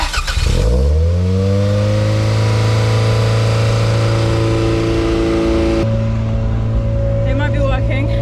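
A Toyota MR2 engine starts up and holds a steady rev at about 3000 rpm, loud and close, droning evenly with a slight shift in tone near the end.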